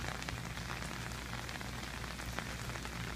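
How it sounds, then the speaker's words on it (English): Rain falling steadily onto a flooded parking lot with poor drainage, a dense, even hiss of drops hitting water and hard surfaces, close and constant with no voices. "I'm recording the rain and the lack of drainage."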